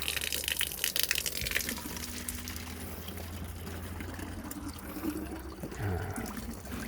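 Water from a four-stage UF filter for cloudy water, poured into a bottle, a steady close trickle and gush running continuously for about seven seconds with no talking.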